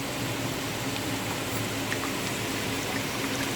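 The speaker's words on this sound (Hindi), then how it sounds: "अब हम इसमें पानी डालेंगे, सादा पानी है, टैप वाटर" Plain tap water pours steadily into a bowl of yogurt and gram flour mixture, giving an unbroken, even rushing splash at constant loudness throughout, close by and without talk.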